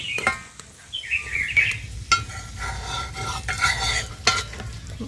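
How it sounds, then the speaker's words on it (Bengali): A paratha fries in a pan until reddish, with a soft sizzle and sharp stirring or flipping knocks. Faint bird chirps come from the background and no one speaks. "পিঠ এইভাবে কিন্তু লাল লাল করে ভেজে নিচ্ছি।"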